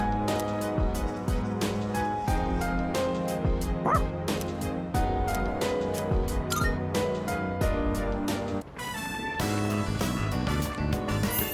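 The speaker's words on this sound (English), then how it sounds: "Oh, is that dog," A dog in Persona 3 Reload yips and barks several times over continuous game background music, with short bright calls scattered across the clip and a brief pause in the music near the end.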